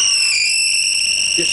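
A wooden chess rook spinning on a lathe gives off a steady, loud, high-pitched squeak that holds a sustained whistling tone throughout, with a faint low hum from the machine beneath.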